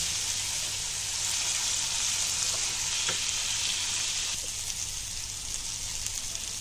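Steady sizzling and crackling of tomatoes frying in a hot pan, continuous and close, with faint occasional stirring clicks.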